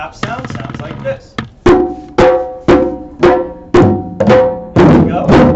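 A hand drum in a workshop drum circle is struck in a series of about eight sharp, close taps, each with a short ringing decay, spaced in an even pulse.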